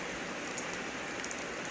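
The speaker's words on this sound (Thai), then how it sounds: "เสียงฝนตกมาแล้ว" Steady rain falling on a house during the night, an even, continuous hiss of drops close by with no talk over it.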